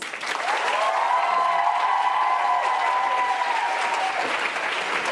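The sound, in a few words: applause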